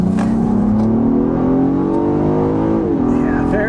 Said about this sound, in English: let's turn onto this back road and see about an acceleration